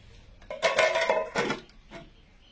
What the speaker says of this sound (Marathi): आता याच्यावर झाकण ठेवून देते.